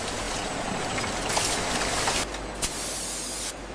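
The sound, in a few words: Coca-Cola filling into bottle on factory line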